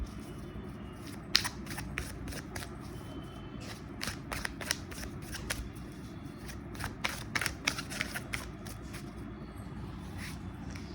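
A deck of tarot-style playing cards is shuffled and drawn up close, with a run of quick, crisp flicks and riffles at an uneven pace over a low steady background.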